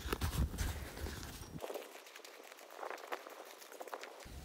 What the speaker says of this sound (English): just take your little shovel and scoop out the sand